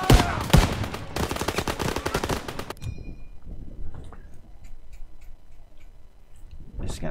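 Loud bursts of rapid machine gun and rifle fire in the Call of Duty WWII shooter game, dense for about three seconds before cutting out to near quiet, with voices mixed in.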